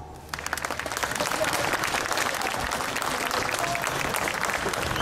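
A crowd of motorcyclists at a protest against mandatory roadworthiness testing in Bordeaux bursts into applause after a brief quiet moment, then keeps up loud, dense outdoor clapping with scattered voices.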